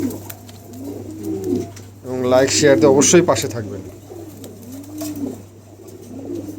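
Pigeons at a pigeon farm coo softly and steadily, with a louder burst of calls in the middle, while someone talks over them nearby.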